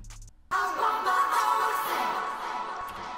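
Isolated singing voices from a High School Musical track, separated with a vocal isolation web app, start abruptly after a brief faint lead-in and sound thin and smeared with artifacts.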